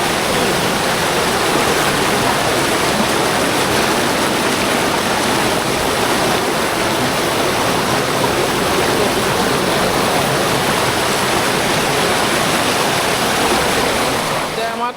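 A beautiful outdoor river rushes in a loud, unbroken wash of flowing water that holds steady from start to finish, close by and with no pauses.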